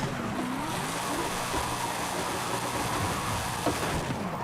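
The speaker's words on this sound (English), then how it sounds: "We're going to do the exact same thing, but we're going to bounce off that rev limiter." Forza Horizon 5 car drifting with its engine bouncing off the rev limiter, a steady high-revving drone with a faint tire squeal over a continuous rumble.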